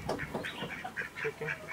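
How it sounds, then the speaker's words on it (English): Chicken giving an odd, repeated honking cluck, a quick series of nasal squawks at moderate distance with no talking over it. "Chicken. Why does it sound like that?"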